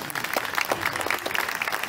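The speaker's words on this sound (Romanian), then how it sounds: "Hai să ne aplaudăm, că cred că merită." An audience at a jazz festival claps steadily and densely for students on stage, with a full, even applause that carries from start to finish.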